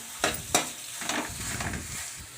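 Khoya (mawa) being stirred and roasted in a pan for gujiya filling, with a steady soft sizzle and scraping strokes, including two sharp knocks of the spoon early on, with no voices.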